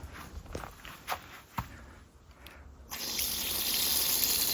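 A few footsteps crunch near an outdoor water tap at a campervan campsite, then water suddenly gushes out and keeps running in a steady, fairly close stream.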